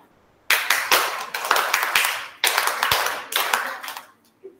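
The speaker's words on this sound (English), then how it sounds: "give a big round of applause" An audience at a church gathering claps in several bursts of applause, close and lively, swelling and fading over a few seconds.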